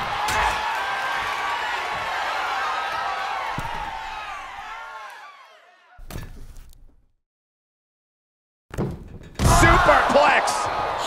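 A superplex slam in the wrestling video game WWE 2K19, heard as a loud crashing impact amid a roaring arena crowd, followed by a short lull and then renewed crowd noise and commentary.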